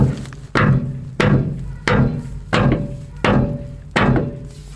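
A hammer taps supports into place under a salvaged mobile home during skirting and underpinning prep, with six sharp, evenly spaced, loud blows, each ringing briefly before the next.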